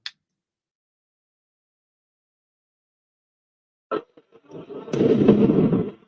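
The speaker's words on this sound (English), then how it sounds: "Multiple explosions." A single sharp crack, silence for a few seconds, then a burst of pops and crackles building into a dense, rumbling cluster of firework explosions.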